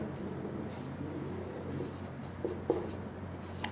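Chalk or marker scratching on a classroom board as numbers are written, a few short strokes standing out near the end over a steady low room hum.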